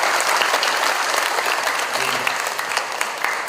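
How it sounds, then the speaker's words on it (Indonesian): Dense, continuous applause rises from an audience at a reading-campaign gathering in Indonesia, many hands clapping at once with a murmur of crowd voices mixed in. "Tepuk tangan buat piko."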